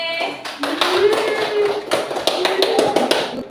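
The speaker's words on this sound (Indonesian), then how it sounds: "tepuk tangan untuk kelompok C." Students in an Indonesian school classroom clap for a group after its presentation, a brief burst of close, uneven handclaps with a few louder taps, and a voice heard faintly beneath.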